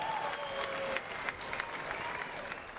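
Crowd at a Cage Rage 28 fight event applauds after a triangle-choke win, steady clapping with a few sharper claps in a large hall, moderately loud, with a voice over it.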